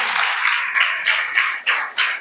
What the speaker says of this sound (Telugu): అందరు క్లాప్స్ కొట్టి గట్టిగా, క్లాప్స్ కొట్టి గట్టిగా